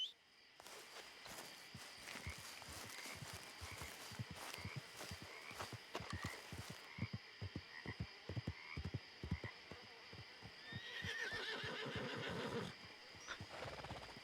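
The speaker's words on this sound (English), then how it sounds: "Let's get our horse." A horse in the video game Red Dead Redemption 2 walks with a steady clip-clop of hooves, then lets out a whinny near the end, with faint croaking in the background.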